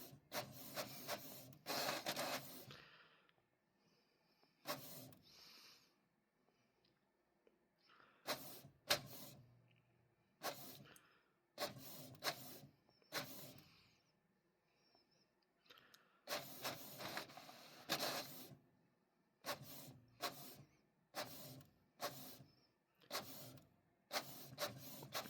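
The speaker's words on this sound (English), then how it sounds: "Just getting a video of it printing." A printer runs off two copies, its mechanism whirring and clattering in several separate bursts with quiet pauses between them, heard alone and fairly close.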